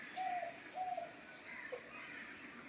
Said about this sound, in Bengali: দেখো পাখিগুলো উড়ে যাচ্ছে, কি সুন্দর পাখিগুলো উড়ে যাচ্ছে